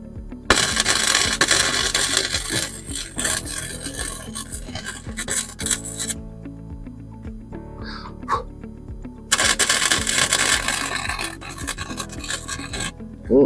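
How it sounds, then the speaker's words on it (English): MIG welding along a car panel, pushing the bead: two long bursts of loud, dense crackling and hissing close up, separated by a quieter gap with clanks and a brief tone, with no talk over it. "I'm gonna see if I can push the weld"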